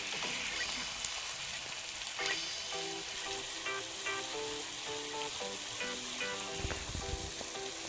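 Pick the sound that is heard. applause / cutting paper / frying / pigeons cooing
frying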